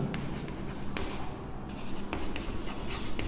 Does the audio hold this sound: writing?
yes